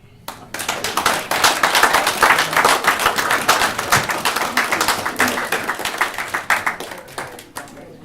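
A live audience at a Scandinavian-themed comedy show applauds loudly and steadily, dense clapping from many hands holding for several seconds before tapering off.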